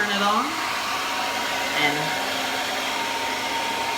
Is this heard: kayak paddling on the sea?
no